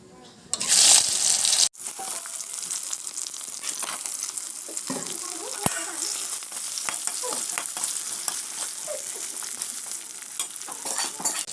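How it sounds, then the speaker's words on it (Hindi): Pointed gourd (parwal) pieces dropped into hot oil in a home kitchen: a loud burst of spattering on entry, then a steady, even sizzle of frying that carries on with small crackles throughout. "तेल गरम हो चुका है अब हम इसमें परवल को धीरे धीरे करके डालते जाएंगे"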